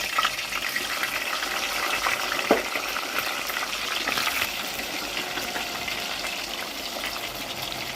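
Pieces of fish sizzle and crackle steadily in a hot pan, a close, continuous frying hiss with a brief clatter partway through.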